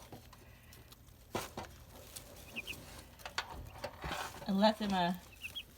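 Young backyard chickens in a brooder cluck and peep softly in scattered bursts, nearby but faint, with a louder run of clucks near the end and a person speaking briefly.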